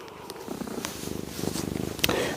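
A domestic cat purrs steadily close by in a quiet indoor room during a Pilates session, the rhythmic rumble continuing unbroken across the whole stretch.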